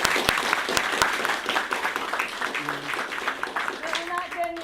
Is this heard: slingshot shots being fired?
no